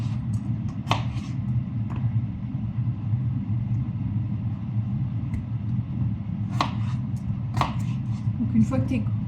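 A knife chops potatoes on a board in a handful of sharp, irregular strikes spread over a low background rumble, with a quiet voice murmuring in places.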